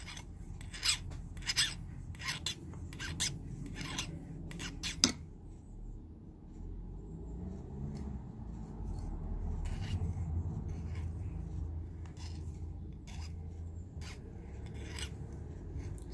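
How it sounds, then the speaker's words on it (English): Metal ear wire ends being filed and rounded for cabochon bezel-set earrings: a run of close, dry rasping strokes, then quieter steady scraping and rubbing without speech. "I'm going to file and round off those ends."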